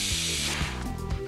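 A pressure release valve on a garden pressure sprayer lets go with a short hiss and a mechanical rattling click, heard close and alone over just over a second.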